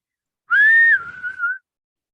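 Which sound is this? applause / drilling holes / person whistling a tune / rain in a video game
person whistling a tune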